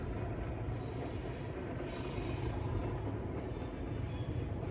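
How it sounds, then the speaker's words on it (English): Train rumbling past continuously and fairly near, a steady broadband roar with low rolling rumble throughout, no clear individual clacks standing out. "Sounds like a helicopter at the same time as the train going past."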